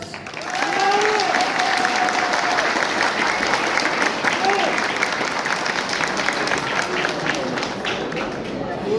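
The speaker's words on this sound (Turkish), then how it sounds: "Saide Nur'u alkışlar mısınız?" Wedding guests at a Turkish ceremony break into sustained, dense applause that starts within the first second and holds steady, with some cheering voices mixed into the clapping.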